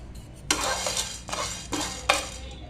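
Cinnamon and black peppercorns are dry-fried over a low flame while a spoon stirs them in the pan, producing four distinct scraping, clinking strokes against the metal with quiet pauses between.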